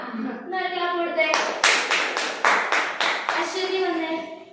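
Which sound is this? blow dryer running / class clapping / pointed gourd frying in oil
class clapping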